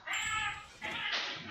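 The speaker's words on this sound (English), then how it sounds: "Oh my goodness, my kitties are loving each other." Two house cats yowling and caterwauling at each other in a scuffle, drawn-out strained cries in two loud bursts close by, with a short break between them.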